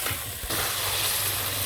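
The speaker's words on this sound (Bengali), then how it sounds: "ভালো করে কষিয়ে নিই" Curry sautés in a pan on a clay stove in a Bangladeshi village kitchen, giving a steady, close sizzling hiss, with a brief stirring scrape near the start.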